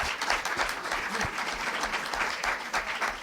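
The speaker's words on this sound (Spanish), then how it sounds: "No sabía que iba a tener tantos aplausos, sinceramente." An audience at a public lecture on Spain's demographic decline applauds in a steady, even wash of many hands clapping, moderately loud and continuous throughout, with no voices on top.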